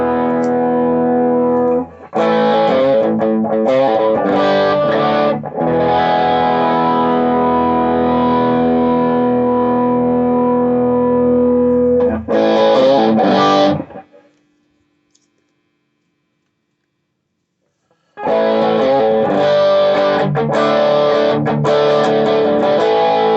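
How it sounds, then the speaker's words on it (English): An electric guitar is played through a distortion pedal, giving thick, sustained chords and picked riffs. A short silent gap falls in the middle, then the playing resumes. "and then obviously the prime distortion."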